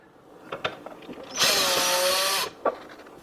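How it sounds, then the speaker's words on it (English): A power screwdriver whirs for about a second while backing a screw out of a Vizio TV's back panel at the audio jacks, loud and close, framed by a few small clicks and taps before and after. "Next, we're going to remove the screw here at the audio in and out."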